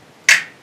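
A single crisp finger snap sample, used as a percussion element in a home-produced beat. It is loud, sharp and isolated, with a quick decay.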